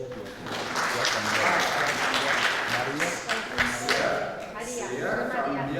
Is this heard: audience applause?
yes